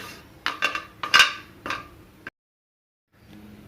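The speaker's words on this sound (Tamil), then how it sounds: "அந்த சூடான சட்டியிலேயே கொஞ்சம் பெருங்காயம் அப்படியே வறுத்து எடுத்துக்கலாம்" A spoon knocks and clatters against a hot pan about half a dozen times while asafoetida is roasted, close and sharp, then stops abruptly, leaving silence before a faint hum returns.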